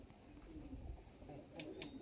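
Pigeons in a home loft make soft, low, faint cooing in a quiet room, joined near the end by a couple of brief higher chirps.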